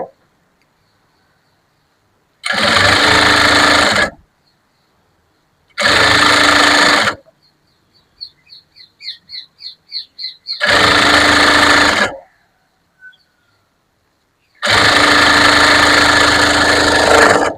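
A domestic sewing machine stitches a puff sleeve with lining in four loud, even bursts of rapid whirring, separated by silences, with a short run of quick clicks between the second and third bursts.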